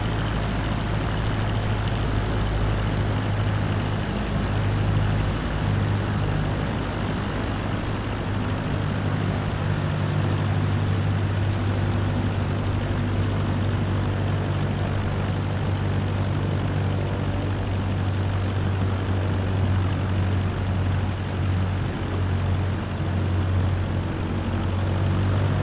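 A propeller airplane engine in Microsoft Flight Simulator 2024 drones continuously at high throttle, a loud, steady hum with a low buzzing tone that stays constant throughout.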